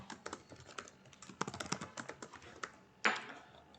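A password goes in on a computer keyboard as a quick run of close, crisp key taps, uneven in rhythm, ending with a firmer single keystroke.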